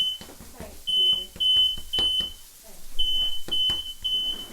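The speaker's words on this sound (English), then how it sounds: "we set off the alarm" A kitchen smoke alarm chirps in repeated shrill electronic bursts while pans clatter and knock nearby and people talk quietly during an organic cooking session.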